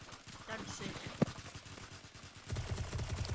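Gunfire in Call of Duty Warzone: a single sharp shot, then a rapid automatic burst near the end, fairly quiet in the game mix.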